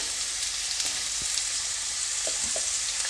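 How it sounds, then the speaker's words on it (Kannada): Vegetables frying in oil in a pan for vegetable masala Maggi, a steady broad sizzle throughout, with a few faint stirring clicks near the end. "ಇವಾಗ ನಾನು ಇದನ್ನು ಒಂದು ಎರಡು ನಿಮಿಷ ಎಣ್ಣೆಯಲ್ಲಿ ಚೆನ್ನಾಗಿ ಸಾಫ್ಟ್ ಆಗೋವರೆಗೂ ಫ್ರೈ ಮಾಡ್ಕೊಳ್ತೀನಿ"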